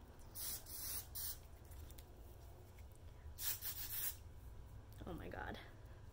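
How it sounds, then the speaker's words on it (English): Aerosol bursts of NYC Do-It-All 3-in-1 dry texture spray misted onto hair, a few short hissing sprays separated by pauses, close and moderately loud. "NYC the Do-It-All 3-in-1 dry texture spray, and it says volume, refresh, hold, dry shampoo meets hairspray."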